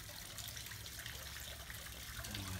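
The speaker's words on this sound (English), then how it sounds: "Copper water spout." Water runs steadily from a copper spout in a backyard garden, a continuous soft trickle and splash close by with a faint low hum, no voices.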